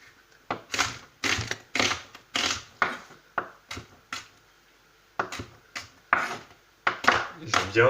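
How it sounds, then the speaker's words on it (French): A knife chopping onion into small pieces on a cutting board, a run of close, sharp knocks at an uneven pace with a short pause midway. "on va les découper en petits morceaux"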